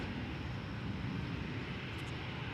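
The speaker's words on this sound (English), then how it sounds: "There goes another flight to Los Angeles, flight 1660. It's an Airbus A321, American Airlines." An American Airlines Airbus A321 heads out from DFW Airport with a distant, faint, steady engine rumble and hiss that stays unchanged throughout.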